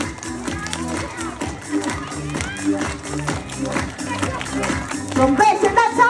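Clapping from a group of campers, including children, at a campsite activity, steady patter of hands with voices and shouts over it, growing livelier near the end.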